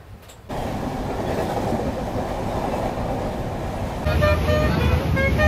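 A passenger train rumbles along loudly and steadily near Digha, wheels clattering on the rails, with a rising rattle and squeal near the end.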